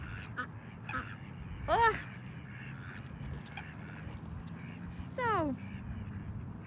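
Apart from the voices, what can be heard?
ducks quacking at a pond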